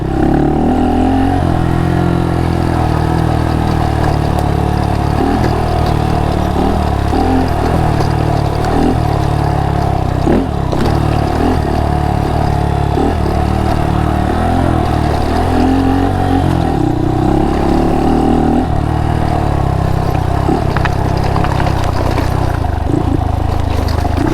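A Honda Monkey motorcycle fitted with an Ohlins fork upgrade kit rides off-road over rocks, its small engine droning loudly and steadily nearby with slight rises in pitch, along with rattles and knocks from the rough terrain.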